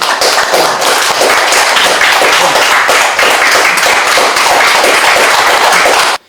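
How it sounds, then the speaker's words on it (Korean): Loud, dense applause from a seminar audience welcoming a speaker, many hands clapping close and continuously for about six seconds before cutting off abruptly. "큰 박수로 환영해 주시기 바랍니다"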